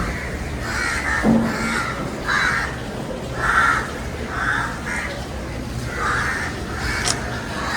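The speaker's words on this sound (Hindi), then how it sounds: "बहुत सारे शोर आ रहा है यहाँ पे आज ये कौवों का" Several crows caw repeatedly in short, harsh bursts against steady outdoor background noise in rainy Goa, some calls overlapping, moderately near.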